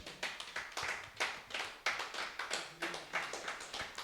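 A church congregation claps in a steady, rhythmic beat of sharp hand claps, roughly three per second, heard fairly faint and at a distance with no talking over it.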